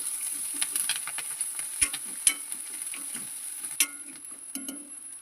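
Cumin seeds and curry leaves stirred in a frying pan, a soft sizzle running under scattered scrapes and taps of the spoon against the pan, fairly quiet and close.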